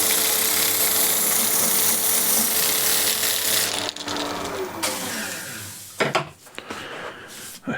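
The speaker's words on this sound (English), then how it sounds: "I'll use inertia sander just from that corner" An inertia sander works a corner of an old wooden piece, giving a loud buzzing rasp with a steady hum that cuts out around the middle, followed by brief scraping and handling knocks.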